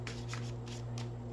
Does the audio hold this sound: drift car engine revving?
no